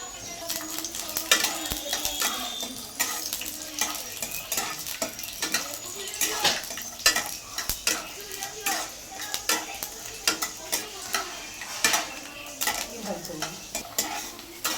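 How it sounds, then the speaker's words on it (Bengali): Peanuts fry in hot oil in a kadai, giving a steady crackling sizzle broken by frequent sharp clinks and scrapes of a metal spatula stirring them, close and fairly loud throughout. "চিনে বাদামগুলো দিয়ে দেব দেওয়ার পর ভেজে নেব"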